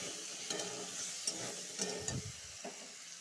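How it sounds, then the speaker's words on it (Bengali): Pointed gourd pieces with salted potato and turmeric fry in a pan, giving a steady soft sizzle with occasional stirring scrapes and clacks, close and moderately quiet. "এটা ভাজবো ভালো করে।"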